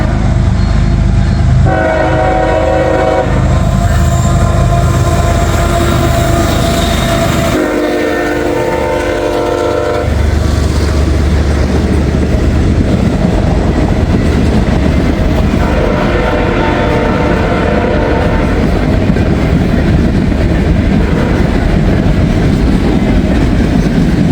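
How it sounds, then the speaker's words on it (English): A CSX freight train made up of gondola cars passes close and loud, with repeated horn blasts over a heavy rolling rumble and rail clatter that keep going for the whole stretch. "There's a CSX train."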